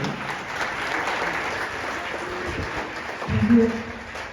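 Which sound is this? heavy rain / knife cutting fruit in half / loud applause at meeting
loud applause at meeting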